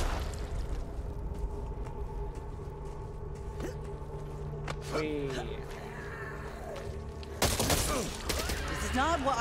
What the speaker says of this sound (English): Machine gun here.